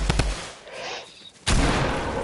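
Rifle gunshots in the video game Fortnite crack in a quick pair of sharp shots, then after a quieter gap a louder blast with a lingering broadband tail.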